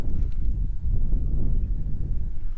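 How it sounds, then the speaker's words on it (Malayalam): Steady low rumbling buffet of wind blowing across the microphone during a motorcycle ride, continuous and fairly loud throughout with no other clear sounds. "നല്ല കാറ്റും ഉണ്ട് കേട്ടോ"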